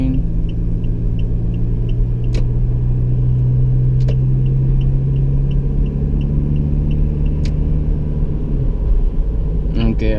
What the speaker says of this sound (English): as I press the gas, it doesn't rev as high as the Montero Sport